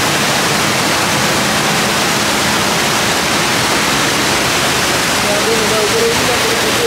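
Water pours from a pipe at a village flour mill beside a waterfall, a loud, continuous rushing roar that fills the whole stretch without a break.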